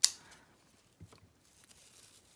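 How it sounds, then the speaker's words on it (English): Scissors cut through fabric along a seam, one sharp snip up front followed by a few quieter cuts, close and alone with no talk. "you can just cut into this real quick and the seam right here"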